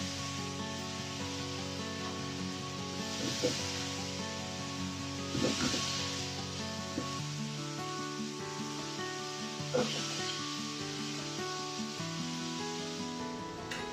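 Fresh peas and vegetables sizzle in a frying pan in a home kitchen as a steady, close hiss, with occasional soft bumps of stirring over a constant background hum.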